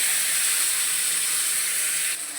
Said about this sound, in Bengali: একটু জিরে ফোড়ন দিয়ে দেবো, জিরে কটা পোড়া হয়ে গেছে, আলু কটা ঢেলে দেবো।